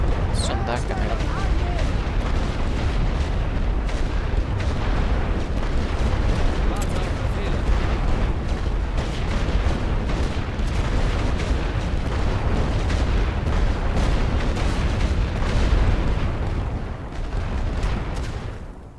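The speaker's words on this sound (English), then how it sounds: "I'm gonna shell that trench, shell that trench" Artillery shelling of trenches in the video game The Great War: Western Front, a dense, continuous barrage of loud booming blasts and rumbling explosions that rarely lets up, heard close and heavy throughout.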